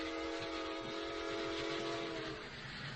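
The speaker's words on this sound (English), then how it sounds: "while that train is going through the station, a shot wouldn't be heard" A train rolls through a station with a steady, loud rumble and sustained tonal whistle-like hum that holds for most of the stretch, then eases slightly near the end; no voices.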